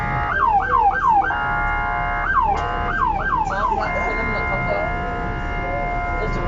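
A fire truck siren wails in repeated rising-falling sweeps amid city street traffic, with bursts around the first and third seconds before fading into the steady road hum.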